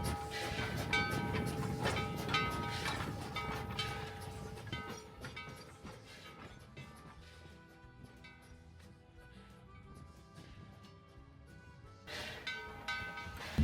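Nevada Northern No. 81, a 1917 Baldwin steam locomotive, heads an excursion train with a rolling rumble and rail clatter that eases midway and swells again near the end.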